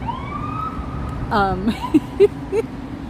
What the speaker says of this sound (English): now we have a ambulance coming down the street